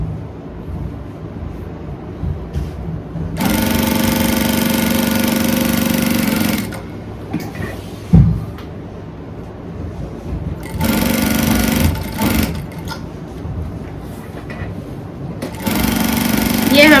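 A sewing machine stitches a dress made from a saree in three steady bursts of rapid whirring, separated by quieter pauses in which someone talks.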